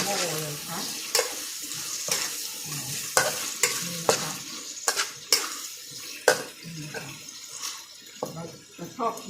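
Fresh squid pieces stir-fried in a hot pan, with a steady sizzle broken by repeated sharp scrapes and clanks of a utensil against the pan at an uneven rhythm, close and fairly loud.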